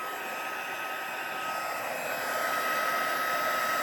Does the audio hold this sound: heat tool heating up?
yes